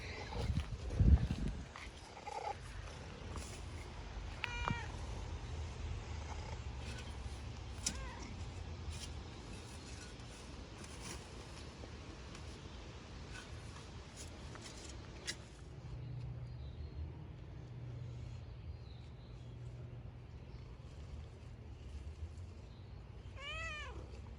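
A pet cat, worked up after new catnip, gives a few meows early on, with a faint thin cry near the end, heard indoors over a low steady background hum.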